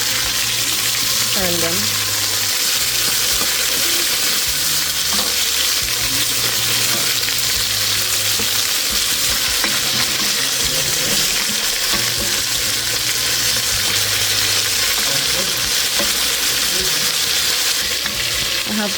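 Oxtail browning in a hot pan for an oxtail with butter beans dish, giving a loud, steady sizzle and spatter throughout while a person talks briefly over it.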